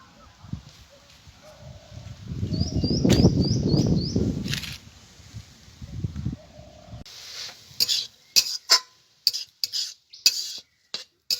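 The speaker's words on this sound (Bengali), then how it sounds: "গাজরটা আমার ভাজা হয়ে গেছে" Grated carrot frying in ghee in a kadai, a few seconds of scraping and stirring with a gentle sizzle, followed by a run of sharp metallic clinks of the utensil against the pan.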